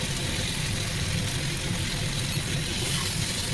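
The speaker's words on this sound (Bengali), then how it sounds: "কচুরলতিগুলো ভালো করে ভেজে নিতে হবে।" Taro stolons (kochur loti) frying in a pan, a steady dense hiss and crackle of oil that stays even and close throughout.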